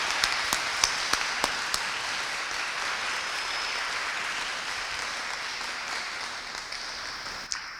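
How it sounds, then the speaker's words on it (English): Steady, full audience applause at a foster care panel event, honoring four young panelists; a few sharp individual claps stand out early before the crowd settles into a continuous, even roar. "So let's give them another round of applause."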